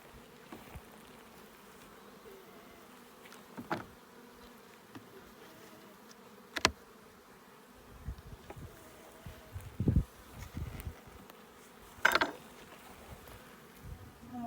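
Honeybees hum steadily around an opened beehive in an outdoor bee yard, a low continuous drone with a few brief knocks and clatters from handling the hive.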